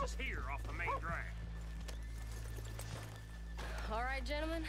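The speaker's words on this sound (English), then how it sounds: "Okay, let's leave the horses here off the main drag." Horses whinny and neigh repeatedly in Red Dead Redemption 2, high wavering calls at the start and again near the end over a low steady hum, with faint hoof clops and a voice speaking in between.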